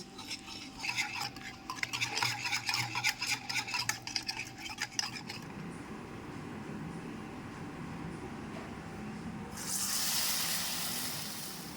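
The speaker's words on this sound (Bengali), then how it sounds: "এবার ব্যাটারটা আমি মিক্সড করে নেব।" Batter of turmeric, mustard oil, poppy seed and water stirred briskly in a bowl, a run of quick close scraping strokes for about five seconds, then quieter background noise with no talking.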